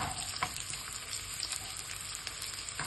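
Onions and three colours of capsicum fry in hot oil in a home kitchen, a steady close sizzle with faint crackles and light stirring throughout, no voices.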